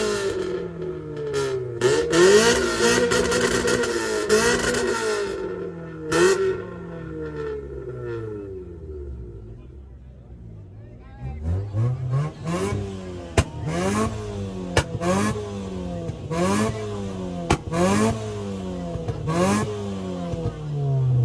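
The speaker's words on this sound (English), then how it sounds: "That blow valve sound good." A loud car engine at a car meet revs repeatedly, with a series of sharp blow-off valve whooshes after each rev in a rhythmic run near the end, close and prominent.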